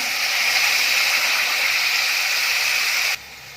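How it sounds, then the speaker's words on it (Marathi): Water poured into a pan of golden-brown fried onions, a continuous rushing hiss that stays even and loud, then cuts off abruptly near the end. "आता पहिल्यांदा मी पाणी घालून घेणार आहे"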